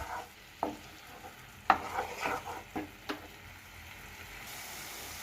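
Spice paste frying in oil in a pan as it is stirred, with soft sizzling throughout and several sharp spoon-on-pan scrapes and taps spaced through the first three seconds.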